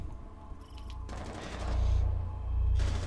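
Rapid bursts of gunfire in a competitive tactical shooter match build into sustained automatic fire, with the shots growing louder and heavier partway through.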